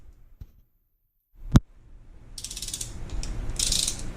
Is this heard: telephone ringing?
no